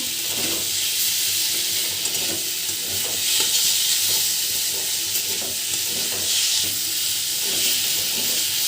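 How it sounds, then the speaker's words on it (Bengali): Eggplant and gima greens sizzle and hiss steadily in a pan on high flame, a loud continuous frying sound with occasional stirring scrapes. "হাই ফ্লেমে একটু ভেজে নেব।"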